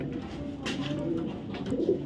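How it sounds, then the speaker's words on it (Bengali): Female racing pigeon from a 2023 BRPEL club line cooing softly, a low murmuring coo rising briefly near the end, close by with faint background noise. "এটা BRPEL ক্লাবের 2023-এর একটা মাদি কবুতর"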